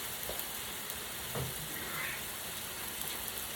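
Oats being mixed into ground meat cooking in a pan, a soft continuous sizzle with a few light stirring scrapes, close but quiet and with no talking.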